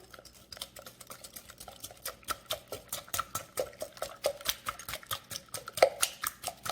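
A whisk or fork beats egg and sugar together for chocolate bread pudding, making rapid rhythmic clinks and taps against the bowl that run steadily, close and moderately quiet.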